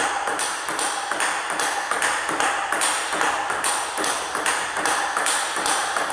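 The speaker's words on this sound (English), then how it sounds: "Here's the sound of the cellular ball." A cellular table tennis ball bounces in a fast, steady rally of sharp, bright pings and taps, close and evenly spaced throughout with no talk.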